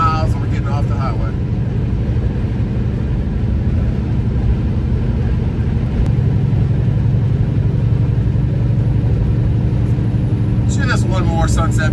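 Truck cruising on a highway, a steady loud low engine and road rumble filling the cab throughout, with faint talk and a few brief clicks near the end.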